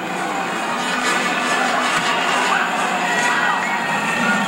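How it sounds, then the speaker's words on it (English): Wrestling arena crowd at a Houston bout between Nick Bockwinkel and Tito Santana, a continuous wash of screaming and cheering that swells slightly, dense and loud throughout. "The crowd gets with him. The crowd starts to scream."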